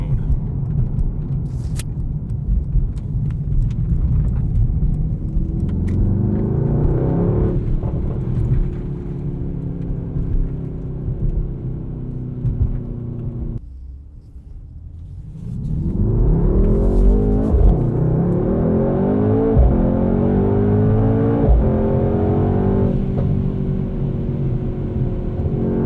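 A 2020 Mercedes-AMG GT 63 S in race mode pulls hard with a loud, sustained engine roar that rises through revs, drops to a brief lull mid-run, then surges again with rising harmonics, heard from inside the car.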